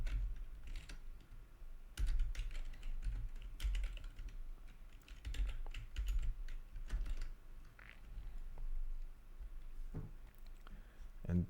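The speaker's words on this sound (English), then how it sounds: "So I'm going to type just that." Typing on a computer keyboard, with steady bursts of quick, close key clicks running throughout and brief pauses between the runs.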